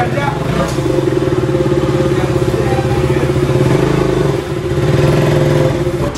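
A KTM Duke 200 motorcycle engine idles and revs loudly and close with a throbbing rumble as the bike is brought into a workshop, with a brief dip midway and voices in the background.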